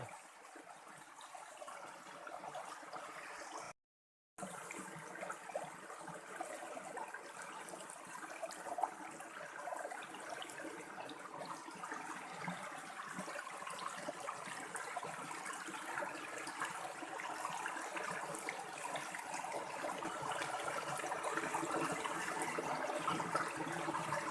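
Soft, continuous rush of flowing water from a waterfall spilling over rocks, faint and steady with a brief dropout early on.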